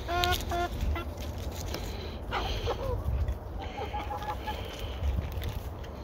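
Roosters on a homestead crow and cluck nearby, with several harsh calls early on and then a steady murmur of clucking and fowl noise through the rest.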